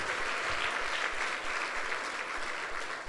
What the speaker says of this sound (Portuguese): Então diga amém e dê um aplauso a Jesus.